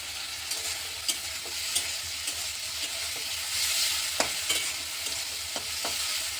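Fish fry in a wok with a constant crackling sizzle, punctuated by sharp spits and pops and light stirring, heard up close with no voices.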